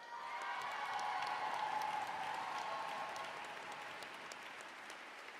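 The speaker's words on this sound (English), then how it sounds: "a big round of applause for head volleyball coach Dorothy Webb" An awards-ceremony audience applauds head volleyball coach Dorothy Webb as she celebrates her 30th year, a sustained round of clapping heard from a distance that swells early and then slowly fades, with no speech over it.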